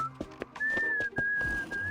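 A woman whistles a broken, wavering tune in the video game Reverse: 1999, a clear sustained melodic line with brief dips, over soft background music and faint rustles.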